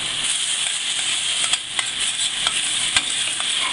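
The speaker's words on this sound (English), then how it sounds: "We're going to take our mushrooms, put that in the pan with the garlic." Mushrooms sizzle steadily in a hot pan with garlic, a dense continuous frying hiss with a few sharp pops and crackles breaking through, close and loud with no talking.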